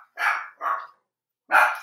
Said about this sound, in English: Apparently there's someone passing by out front, so the dogs decided they're going to let us know.